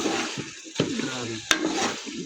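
Potatoes for aloo bhujia frying and being stirred in a pan, a close continuous sizzle broken by soft spoon scrapes and one sharp metallic knock, with a faint voice underneath.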